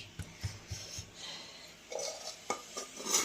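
A metal wok (kadai) is knocked and set down while pots are washed at a kitchen sink, giving a handful of faint, scattered clanks and scrapes with quiet gaps between them.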